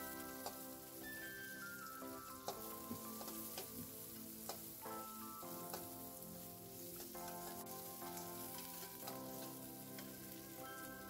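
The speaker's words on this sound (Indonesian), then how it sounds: "kita tumis bawang putihnya sampai harum. Kalau udah harum, sekarang kita tumis juga bawang bombaynya sampai layu" Garlic and onions sauté in hot oil in a home kitchen pan, a steady close sizzle and crackle with occasional stirring clinks, continuing evenly with no speech.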